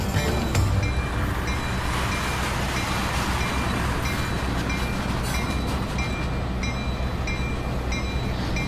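A model train locomotive on a layout switching five cars onto the main line, running with a steady rolling rumble and faint rhythmic clicking of wheels over track, alone throughout.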